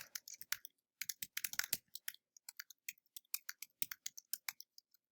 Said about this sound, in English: You will type in your school email.